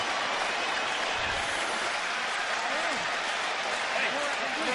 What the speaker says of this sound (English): And the crowd stands up.